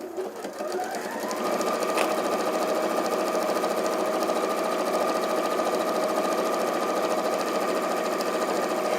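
A sewing machine stitches a strip of binding onto fabric, starting up and then running in a fast, steady, close-up whir with an even mechanical rhythm, heard on its own.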